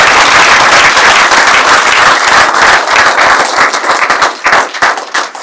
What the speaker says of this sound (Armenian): Եկեք հիմա մի հատ ծափարենք մեր Արցախի